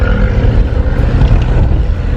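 Motor traffic near Agadir, Morocco, where motorcycles pass and cut across; a steady, loud engine rumble fills the whole stretch without a break, with no voices over it.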